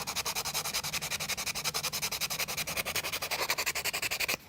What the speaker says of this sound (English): Take the sandpaper and sand the parts.